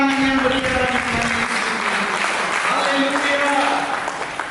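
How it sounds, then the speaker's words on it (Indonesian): A church congregation claps steadily through a worship service, the applause running under sustained musical tones and a voice, then tapering slightly toward the end. "Mari kita sambut kembali dengan tepuk tangan yang berikan bagi Tuhan."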